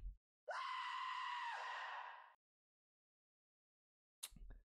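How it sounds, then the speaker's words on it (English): A cartoon scream sound effect gives one loud, sustained, high-pitched shriek of about two seconds that trails off abruptly. It is followed by silence and a brief, clattering noise. "I wonder if that scream came from an episode where it was voiced by Billy West"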